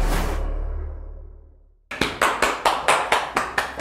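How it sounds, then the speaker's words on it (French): A single person claps hands about eight times in a quick, even rhythm, crisp and close, after a fading low tone and a moment of silence. "Je t'applaudis avant."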